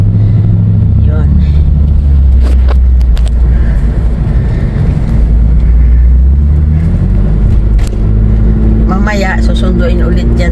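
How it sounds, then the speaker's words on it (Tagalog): Steady low road rumble of cars driving alongside on a highway, heard from inside a moving vehicle heading home, loud and continuous throughout with people talking over it. "Ayun mga katabi namin ng mga sasakyan. Nandito kami ngayon sa highway, pauwi na."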